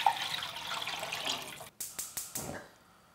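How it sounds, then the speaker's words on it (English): Tap water runs over beef bones being rinsed for Korean gomtang beef soup, a steady splashing wash that stops abruptly, followed by several short bursts of pouring and splashing before fading. "So I like to wash this again."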